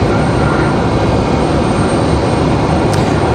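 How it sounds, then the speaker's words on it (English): A JetBlue Embraer E-175 jet goes around at Raleigh-Durham, a steady, loud broadband engine roar holding evenly throughout with no voices. "JetBlue going around that American Airlines down there at the end"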